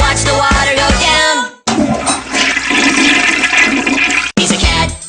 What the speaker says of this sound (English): He likes to push the handle and watch the water go down.